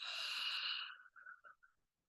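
Slow, soft exhalation during a guided breathing exercise, a single airy breath out that fades gradually.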